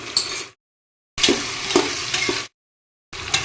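Finely chopped tomatoes sizzle in a pan with browned onions and capsicum for tomato rice, a loud frying hiss with stirring scrapes, broken by two short silent gaps.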